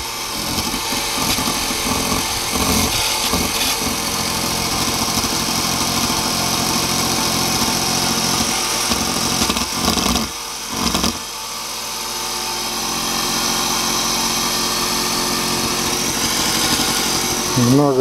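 A POWER MAXX 500W angle grinder with a rewound armature runs steadily at high speed, a loud continuous whine that dips briefly near the middle before spinning back up.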